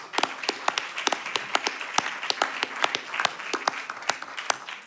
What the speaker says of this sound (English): a big round of applause with our thanks for all that we've achieved